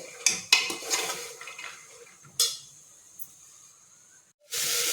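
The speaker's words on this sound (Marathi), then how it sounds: "हे बघा आपले असे चणे परतून झालेले आहेत" Chickpeas for a usal being sautéed in a pan, with a few sharp clinks of a spoon against the metal over a soft, steady sizzle, ending in a sudden loud hiss of steam.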